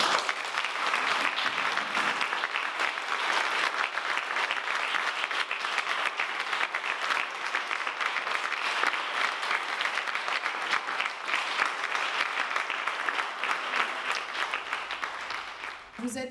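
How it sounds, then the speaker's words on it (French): New graduates of the Collège Sainte-Marie class of 2020 applaud themselves at their graduation ceremony: dense, sustained clapping from a large group fills the room at an even level for about sixteen seconds before tapering off at the end. "Vous pouvez tous vous applaudir."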